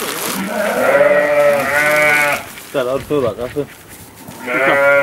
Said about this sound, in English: it might be the sheep.